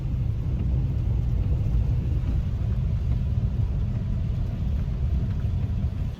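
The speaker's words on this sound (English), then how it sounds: "if you can hear the thunder and lightning right now" Thunder during a rainstorm on a walk near Durban: a continuous deep rumble rolls on at steady loudness, fading slightly at the end, with no voices.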